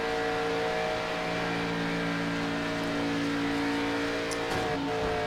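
Chevrolet Impala race cars at Daytona International Speedway make a steady, droning engine roar that holds constant throughout, heard from a distance.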